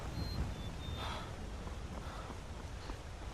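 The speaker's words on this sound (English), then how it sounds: "We've still got this endless panting cycle." A character in modded Skyrim survival play pants in faint, breathy gasps that repeat under a low, rushing game ambience.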